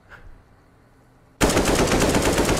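A Kalashnikov fires in the Roblox game Anomic: after near silence, a loud, sustained burst of automatic gunfire starts abruptly and runs steadily to the end.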